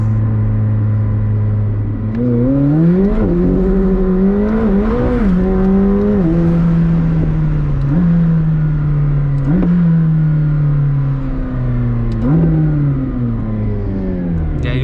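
A 2021 McLaren 765LT engine pulls at partial throttle, holding a steady loud drone that climbs in pitch with each acceleration, drops at the shifts and climbs again, close up and continuous.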